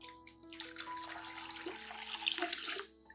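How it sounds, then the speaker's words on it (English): Clean water poured into a molasses and nutrient solution being diluted for houseplant care, a soft splashing, trickling pour lasting a few seconds, quiet and close, with faint tonal hum underneath. "I will dilute the entire solution with about 1 liter of clean water"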